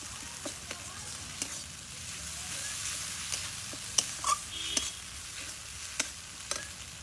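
Spice paste with ginger frying for a fig curry gives a soft continuous sizzle, broken by scattered spatula clicks and scrapes against the pan as it is stirred.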